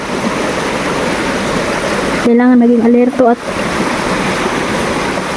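A river rushes in a steady, continuous wash of water noise in a mountain setting as rain approaches, with someone speaking briefly over it partway through.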